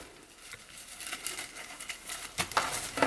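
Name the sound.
handling deco mesh to make a wreath poof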